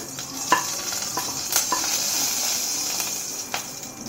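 Mustard seeds fry in hot oil and ghee for upma, a dense continuous sizzle with scattered pops and crackles and a few brief stirring clatters close by.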